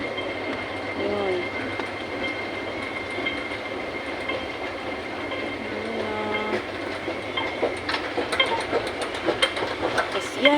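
A subway train rumbles and clatters through an enclosed underground station in Hong Kong, with faint metallic squeals and rising noise toward the end as it approaches.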